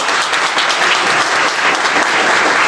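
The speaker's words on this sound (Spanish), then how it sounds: "Un aplauso para todos." Steady, dense applause from an audience at the close of a class, many hands clapping together at an even, loud level throughout with no talk over it.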